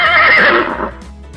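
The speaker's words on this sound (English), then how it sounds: "It's a horse." A horse whinnies loudly and alone in a farm-animal sound game for toddlers, one shrill, wavering neigh that trails off and fades after about a second.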